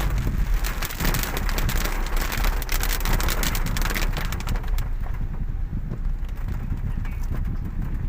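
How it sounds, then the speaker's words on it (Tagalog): Steady, dense rain hisses loudly throughout, with occasional birdlike sounds mixed in. "Kaya nakikita ko na malakas din ang ulan."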